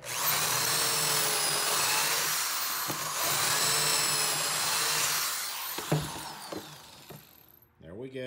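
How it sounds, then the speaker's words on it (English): A power drill bores holes in a half-inch board clamped in a K5 pocket-hole jig, a loud sustained whine for several seconds that ends in a few clicks and clunks. "drill a couple of holes."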